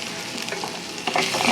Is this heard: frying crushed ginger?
yes